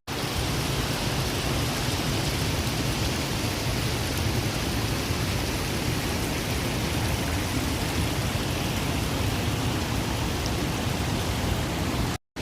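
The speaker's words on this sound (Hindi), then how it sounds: "यहाँ रास्ते से मंदाकिनी नदी काफ़ी नज़दीक है।" The Mandakini river, swollen after a night of heavy rain, rushes close by in a dense, unbroken roar of water that holds steady throughout.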